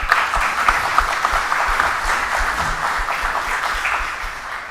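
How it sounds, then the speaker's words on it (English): Audience applause for the panelists at the close of a conference session, a steady, dense clapping from a large crowd that carries through the whole stretch without any talk over it. "Let's thank our panelists with an applause."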